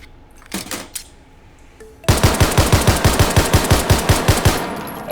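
Pistol gunfire from the H3VR virtual-reality shooting game, a futuristic 15-round handgun: a few scattered shots, then a rapid, steady string of about eighteen loud, close shots fired in even rhythm.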